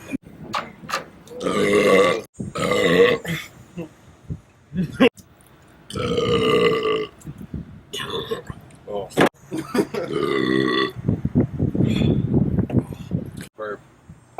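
Loud, drawn-out belches from men competing in crude gentlemanly burping, several long guttural eructations with laughter and chatter between them.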